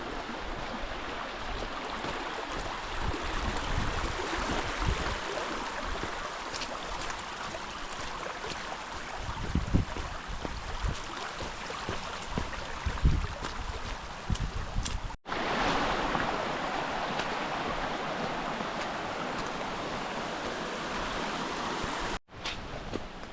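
Steady rushing water from a river running beside a damp woodland trail on a coastal walk in Cornwall, a broad continuous wash heard close and alone, with a few brief dropouts.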